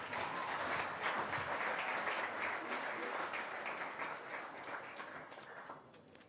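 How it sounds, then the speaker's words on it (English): Applause from the audience at a school Grade 12 graduation ceremony, a steady wash of clapping that carries on for several seconds and slowly fades, with no speech over it. "Another round of applause, boys and girls."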